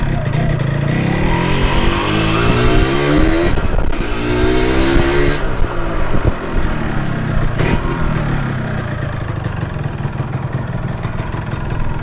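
A Yamaha RXZ two-stroke motorcycle engine runs close by, loud and continuous, revving up and down with rising and falling pitch, with no talking.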